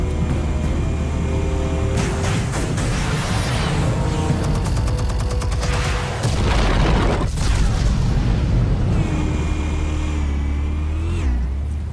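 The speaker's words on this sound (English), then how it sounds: "Explosives armed. Fire when ready." Explosives detonating in Batman: The Telltale Series, a loud sustained sequence of deep booms and crackling bursts mixed with rumbling debris and game sound effects, with no voices.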